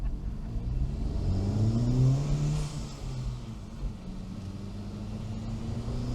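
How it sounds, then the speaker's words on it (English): Honda Civic Type R accelerating away from a stop, a loud close engine and intake note rising in pitch to a peak around two seconds, then easing into a steady drone as it pulls away. "Car sounds pretty good from the intake side."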